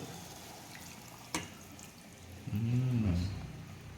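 Coconut milk poured into an egg stew in a pan, a soft liquid splash and gurgle swelling for about a second after a faint click, quiet overall.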